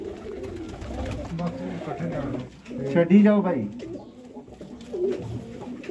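Black-faced Sialkoti pigeons coo in short bursts, one louder call standing out midway, while someone speaks over them.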